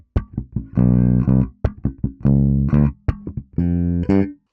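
A bass guitar plays a short groove that mixes sustained notes with sharp percussive snaps and muted dead notes. The rhythm is choppy and syncopated, played solo and up close.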